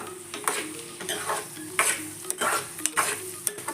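Egg fry being stirred in a pan until brown, a spatula scraping in repeated strokes over a steady close sizzle, with no talking.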